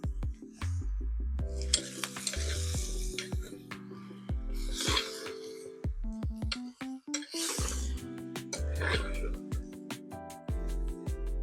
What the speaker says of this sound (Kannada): ಊರ್ದ ಕೋರಿದ ಮಾಸ ಪಾಡ್ದು ಸಮ ಮಿಕ್ಸ್ ಮಾಡ್ಬೇಕ